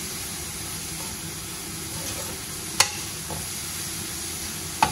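Green chili and garlic saute gently in oil on low heat for a mung bean usal, a constant soft sizzle broken by a couple of sharp utensil taps.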